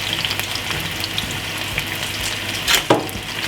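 Cheese-topped chicken breasts frying in a pan, a steady close sizzle and crackle with a couple of sharper spattering bursts near the end.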